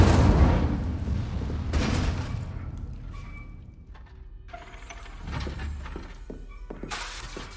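An Incendio fire spell cast in the video game Hogwarts Legacy bursts with a harsh crackling whoosh, then gives way to mechanical clanks, thunks and ratcheting clicks. A second burst comes near the end. The sounds are close and no one speaks.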